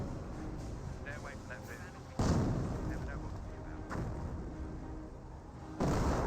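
A 60mm mortar fires in Company of Heroes, sending deep booming thumps at intervals over a busy battle soundscape while a commentator talks throughout.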